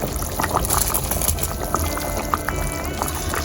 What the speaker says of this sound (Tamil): இப்படி கொதி வரக்குள்ள அரிசி எடுத்து போடுங்க